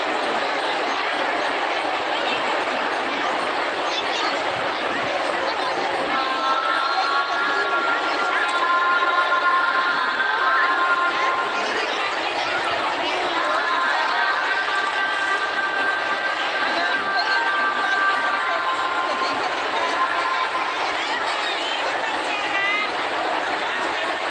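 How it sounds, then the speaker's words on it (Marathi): A large crowd of women gathered at Chakarwadi for a Shiv Puran katha makes a dense, steady murmur of chatter. It carries on without a break, with a few faint thin tones rising over it. "महिलांनी मोठी गर्दी केलेली आहे शिवपुराण कथा ऐकण्यासाठी"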